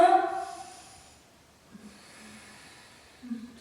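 Quiet, slow breathing through the nostrils during a yoga session, soft airy inhales and exhales set apart by pauses, close and alone.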